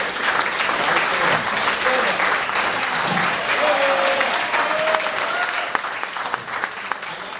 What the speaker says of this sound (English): give my partner a round of applause